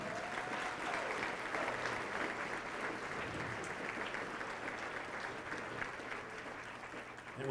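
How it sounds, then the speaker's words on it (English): A volunteers' night audience applauds a reader, with sustained crowd clapping that holds steady and fades slightly toward the end, heard at a moderate distance. "please, a round of applause for our reader, Roger Wood."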